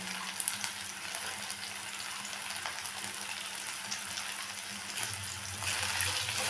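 Whole garam masala fries in ghee for dalia khichdi, giving a quiet, steady sizzle with faint crackles throughout that swells slightly toward the end.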